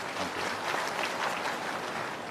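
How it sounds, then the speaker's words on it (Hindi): A crowd at a cooperative bank inauguration ceremony in Uttar Pradesh claps steadily in welcome, with dense, even applause filling the whole short stretch. "हम उनका तालियों के साथ स्वागत करेंगे"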